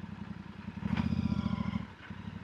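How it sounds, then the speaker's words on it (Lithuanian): Motorcycle engine on a ride along the Lithuanian coast, a steady close-up throbbing drone that swells louder through the middle, with no talk over it. "O aš pasimėgausiu važiavimu motociklu."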